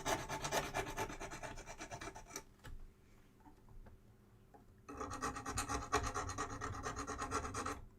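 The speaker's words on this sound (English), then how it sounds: "Some burrs on here, so we'll get the burrs off." Hand file rasps burrs off a metal part on a workbench, in close, steady back-and-forth strokes that pause briefly midway and then resume.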